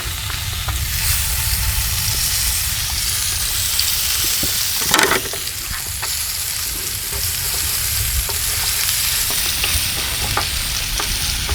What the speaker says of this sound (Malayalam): എന്തിനാ മസാല ഇങ്ങനെ മൂപ്പിച്ച് ഇങ്ങനെ എടുക്കണം